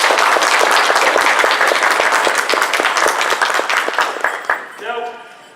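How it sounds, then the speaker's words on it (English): Loud, enthusiastic applause and cheering from a convention audience for a fursuiter at a furry con, a thick burst of clapping that swells, then thins and fades near the end as a voice begins. "let's give our fursuiter a huge round of applause"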